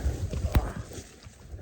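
A horse named Houdini walks through brush on a mule deer hunt, with close hoof thuds, one sharp snap and crunching and rustling of branches over a steady background hum.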